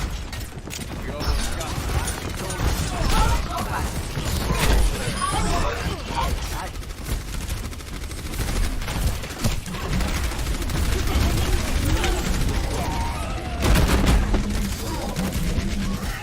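Junkrat firing grenade shots in Overwatch, a busy stream of popping launcher blasts and bursts of gunfire mixed with match noise, with someone talking over the action.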